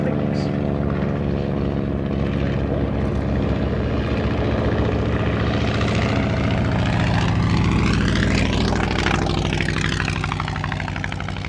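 A replica 1920s Avro 504N biplane with a 160-horsepower engine, built by Pursang of Argentina, drones past at an air show, its steady propeller roar rising and sweeping by over about eleven seconds and drowning out everything else.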